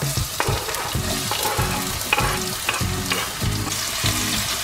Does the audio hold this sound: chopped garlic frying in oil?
yes